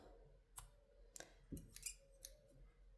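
Scissors cutting black crochet yarn: a few soft, crisp snips and clicks close by in a very quiet room, spread over about three seconds.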